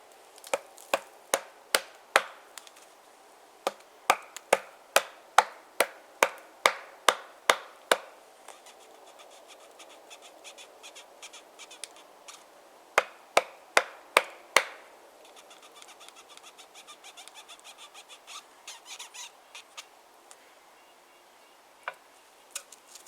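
A home-forged survival knife blade being pried hard, giving a close series of sharp cracking clicks in irregular bursts, with quieter gaps between them.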